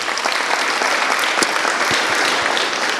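A crowd claps loudly and continuously for a young girl at a religious gathering, a dense, even patter of hands with a few sharper claps standing out.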